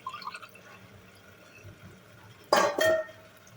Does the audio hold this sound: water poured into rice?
yes